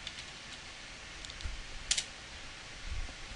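Typing on a computer keyboard while entering commands in DOSBox, a few soft scattered key clicks over a quiet background hiss, faint and close, with no speech.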